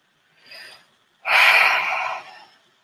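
Two breaths during a guided meditation: a short soft inhale, a pause, then a louder, longer deep breath drawn close up and trailing off.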